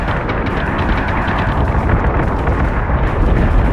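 Spaceship cannons fire in a dense, continuous barrage of heavy booms and rumbling blasts during a space battle in the Battlestar Galactica Deadlock video game, loud throughout with no talking.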